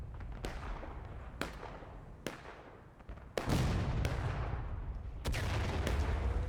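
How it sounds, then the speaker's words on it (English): Musket volleys in the War of Rights game, a 250-player Civil War battle on the Railroad Cut map: sharp single shots crack at roughly one-second intervals, then heavier overlapping flanking fire rolls in with lingering echoing reverb. "Now you got flanking fire coming in on Fritz here from 2 angles."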